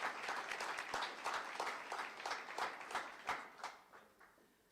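Applause from a signing-day audience welcoming new industrial engineering technology students, a dense patter of many hands clapping at moderate distance that peaks and then tapers off toward the end.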